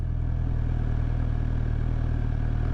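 A motorcycle engine runs steadily nearby as the rider slows to a stop, giving a continuous low throbbing rumble at even loudness with no talk.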